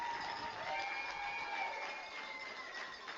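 A stadium crowd at a women's rugby national championship match in Ottawa cheers and applauds at a distance, a broad muffled roar lasting throughout.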